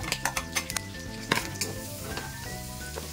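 Ginger, onion and garlic sauté in a pan for pork adobo, a steady close sizzle broken by repeated clinks and scrapes of a utensil stirring against the pan, over a faint tonal background.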